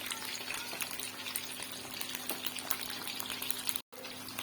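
Chicken popcorn pieces fry in oil in a pan, giving a steady close crackling sizzle with faint bubbling that runs continuously and cuts out briefly near the end.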